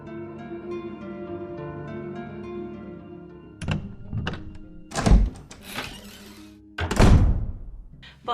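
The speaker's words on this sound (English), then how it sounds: "that slow door opening and shutting" In the Resident Evil video game, a low sustained tone fades into heavy, slow door movement, then two loud booming thuds as the door shuts, with clattering in between.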